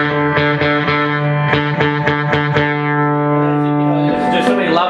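A guitar played through a Marshall Club and Country amp with distortion and reverb: repeated strummed chords ring out in a steady rhythm, then a sustained chord with a reverb tail, loud and close.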